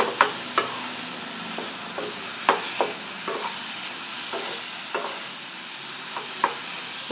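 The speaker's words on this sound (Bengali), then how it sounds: "এভাবে নাড়তে হবে সমানে, না নাড়লে লেগে যাবে।" Mango pickle in a wok is stirred steadily, with close, rhythmic scraping strokes over a constant hissing sizzle. No voices are heard.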